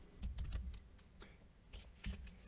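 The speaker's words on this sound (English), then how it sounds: "So first we're going to type in Wetty." Someone types a short word on a computer keyboard, producing a few irregular clusters of soft, close key clicks with brief pauses between them.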